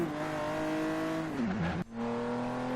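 The exhaust of a Lotus Evora in Forza Horizon 3 revs with a steady, buzzing drone, sweeps up in pitch, then drops through a sharp gearshift before settling into a lower, even hum.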